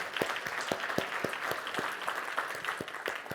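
A seated audience claps in a steady, even applause with dense overlapping hand claps at moderate loudness, heard from a little distance with no talking.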